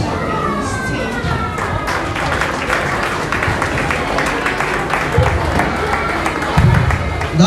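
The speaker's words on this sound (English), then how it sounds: "Keep clapping, keep clapping, keep clapping, keep clapping as they come forward" An audience claps at a Montessori academy graduation and prize-giving ceremony, a dense steady patter of many hands with crowd murmur and voices mixed in.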